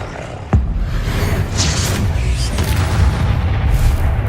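A Bombarda spell goes off in the video game Hogwarts Legacy with a sudden loud boom, followed by a rumbling, crackling wash of magical effects.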